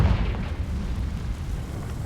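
A Confringo blasting curse from Hogwarts Legacy goes off as a deep, booming explosion that rolls on as a dense low rumble for about two seconds, with no speech.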